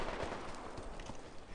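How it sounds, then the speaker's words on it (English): Gunfire in the video game Deadside: a short flurry of loud, overlapping shots and booms crowded into a brief moment. "I took a shot at him."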